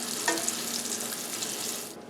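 Pork pieces frying in hot oil on a stove set to medium-high: a steady, close sizzle with fine crackle and a brief stir near the start, fading out at the end.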